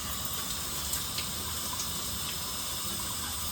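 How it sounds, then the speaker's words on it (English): Water runs steadily in a shower during a wash day for new locs, a continuous close hiss and splash with no break or talk. "I just add some water"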